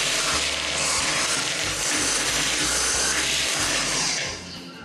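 An electric mixer beats butter with syrup at low speed for a biscuit cake, giving a steady whirring hum with some rubbing and scraping in the bowl that fades slightly at the end.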